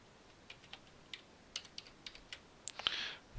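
Soft keystrokes on a computer keyboard, about a dozen light taps at an uneven pace, quiet and close, ending in a brief brighter click.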